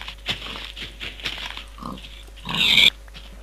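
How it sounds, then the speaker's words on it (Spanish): Several pigs in the Minecraft video game oink in a run of short grunts, with a louder hissing burst near the end, close and clear with no talking. "Voy a matar a estos cerdos."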